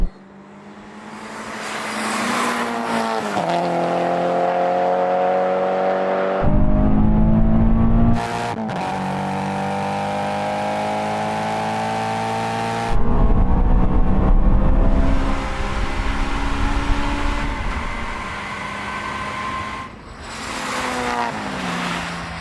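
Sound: Honda S2000, supercharged GT86 and MX-5 drag race

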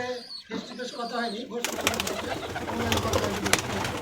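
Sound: pigeon

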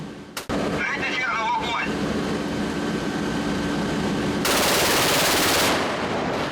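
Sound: naval artillery installation firing warning bursts

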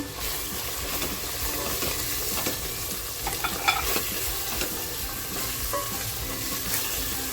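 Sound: spices sizzling in hot oil

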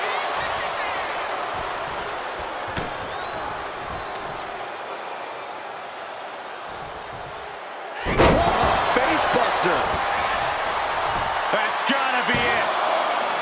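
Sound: wrestler's tilt-a-whirl slam onto the ring

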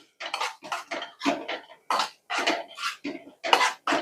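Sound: stirring grated coconut in a pan

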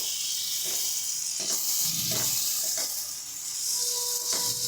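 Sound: chopped tomatoes added to frying spices, sizzling

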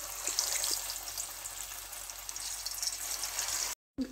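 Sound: chicken deep frying in oil

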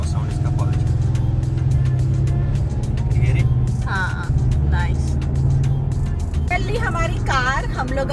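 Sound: Porsche Cayman exhaust while driving

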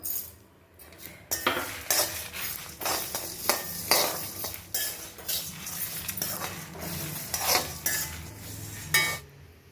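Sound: dry roasting urad dal and spices in a pan without oil

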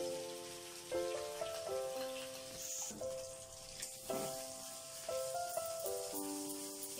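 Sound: tomato, chili, ginger, garam masala paste frying in oil

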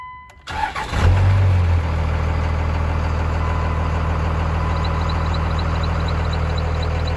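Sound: 1999 Dodge Ram 2500 5.9 Cummins engine briefly started

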